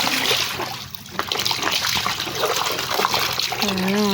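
Water pouring and splashing while clothes are washed by hand, an uneven trickling and splattering stream, with someone talking over it near the end.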